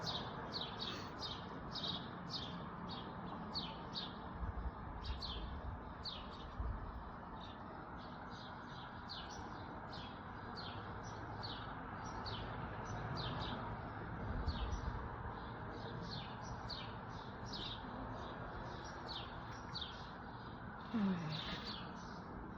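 Birds chirp outside an apartment building in a long run of rapid, high, repeated calls. The calls sound fairly faint over a steady low ambient hum, with no voices.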